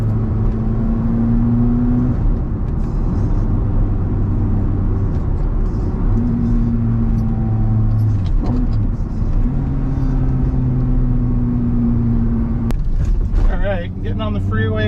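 A Ferrari F430 converted to a manual gearbox accelerates up a freeway on-ramp, the engine rising through the revs in long loud pulls broken by two gear changes, with a voice speaking over it.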